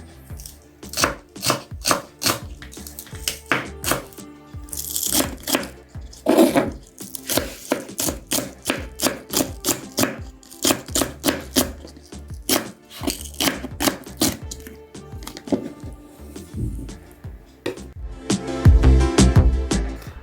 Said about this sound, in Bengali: সেটাকে আমি কুচি করে কেটে নেব।